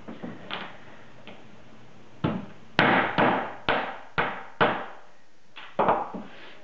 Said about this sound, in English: you can finish it off with a few taps of a hammer.